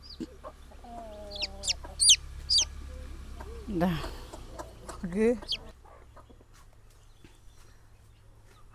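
Hens cluck and chatter at close range in a rural yard, with sharp repeated calls and a few louder squawks in the first half, fading to quieter clucks. A person speaks over them.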